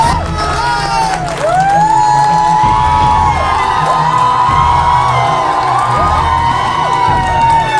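An audience at a poetry recital cheers and whoops loudly, with sustained crowd noise and excited shouts filling the whole stretch and no break in the enthusiasm.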